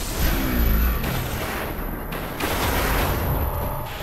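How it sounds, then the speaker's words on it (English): Grenade explosions in the Destiny video game, a dense run of loud booming blasts and gunfire-like cracks over about four seconds, close and continuous with no speech. "Oh, watch out those grenades."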